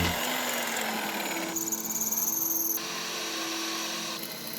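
A power drill whines steadily through several seconds, drilling holes for an awning installation, its pitch shifting as it bites in, with a short higher-pitched burst in the middle.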